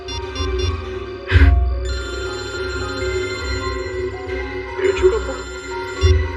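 A phone ringtone plays a sustained electronic tone with a few louder bumps over a low hum, ringing continuously through the clip.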